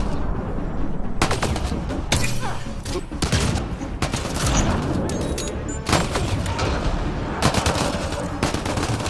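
Sustained gunfire in the video game Mass Effect Andromeda: dense, loud volleys of shots and bursts roll on throughout, layered over constant combat noise and with no pause.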